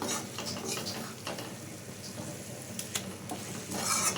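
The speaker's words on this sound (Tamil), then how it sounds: "ஒரு 7 மினிட்ஸ் இது நல்லா ஒரு மீடியம் ஃப்ளேமில் வேக வச்சு எடுத்துக்கலாம்" Prawns cook on a medium flame for prawn thokku, giving a steady low sizzle with faint stirring scrapes and a few light clicks throughout, close by and with no voices.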